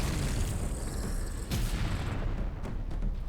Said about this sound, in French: Explosion dans ta gueule.